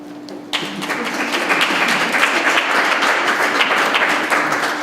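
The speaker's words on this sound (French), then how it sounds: "Ça se doit d'être applaudi." Applause from a gathered crowd at an exhibition opening of bronze sculptures and objects at a museum, starting abruptly after a brief pause and holding as a dense, steady patter of many hands.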